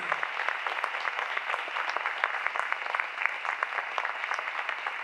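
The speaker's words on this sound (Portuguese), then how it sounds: "Vamos dar para Jesus uma salva de palmas por esta palavra?" A church congregation claps steadily in warm applause during a praise and worship service, a dense even patter of many hands that continues unbroken throughout with no voices rising above it.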